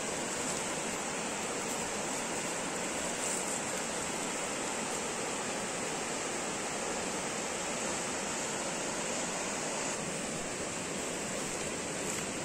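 A river swollen by a recent flood runs with a heavy, fast current, a steady broadband rush of water that is loud and continuous throughout, with no voices over it.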